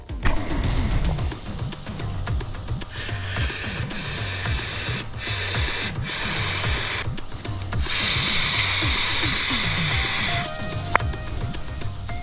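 Pressurized spray blasting the oil pump filter screen of a 1968 Honda CT90 clean, loud bursts of hissing spray that start and stop several times, with a sustained blast near the end.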